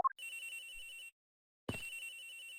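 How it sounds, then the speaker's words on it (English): A phone rings in the Ace Attorney Investigations video game: two clear electronic ringtone bursts, each lasting about a second, separated by a short pause, loud and alone with no talk. "Agent Hicks's phone! It's ringing from somewhere, sir!"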